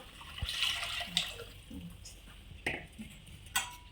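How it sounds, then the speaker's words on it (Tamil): Water is added to a village-style mango fish curry, with splashing and pouring, light clinks of pots and utensils, and a few drips in a fairly quiet kitchen. "இப்போ தண்ணி சேர்த்து அதையும் கழுவி ஊற்றிக்கிறேன்"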